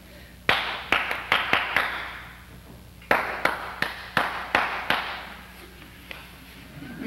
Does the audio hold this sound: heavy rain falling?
no